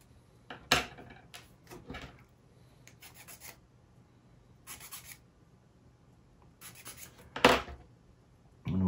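Wooden model kit parts being sanded and waxed by hand, sharp scattered rasping and rubbing strokes in short bursts with pauses between, close and quiet, with no talking.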